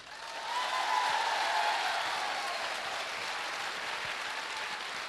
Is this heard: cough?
no